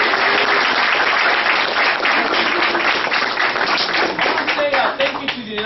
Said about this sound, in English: clap if I said something that made a difference in your life today.